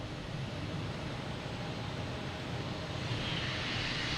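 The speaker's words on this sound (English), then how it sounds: "See if we can get some sound on this takeoff." A JetBlue Airbus A320 airliner takes off at Logan Airport, its engines making a steady, broad roar that swells slightly toward the end, heard from a distance with no talking.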